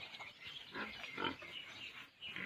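A male pig grunts and snuffles close by while being fed fresh hay, a few short rough grunts in quick succession over quiet farm background.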